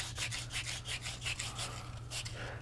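Someone rubs an Atari logo joystick part by hand during a restoration, producing a close, steady, rhythmic scrubbing with repeated strokes over a constant low hum.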